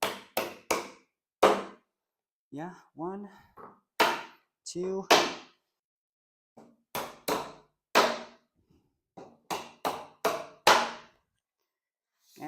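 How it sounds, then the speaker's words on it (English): Hammer taps on a wooden IKEA PAX wardrobe drawer part, a series of sharp close knocks in irregular bursts, some doubled, with a few short spoken words in between. "So grab the hammer and just give it a little bit of love."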